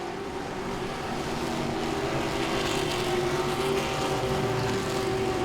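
Grand Stock race cars roaring around Langley Speedway on the final lap, a steady loud engine drone with a sustained pitched tone and no break, heard from trackside.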